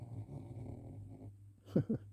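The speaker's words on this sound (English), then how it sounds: "It was one of her big loud random snores." A soft, low snoring breath rumbles for a while, followed by two louder, abrupt snorts near the end from a sleeping dog.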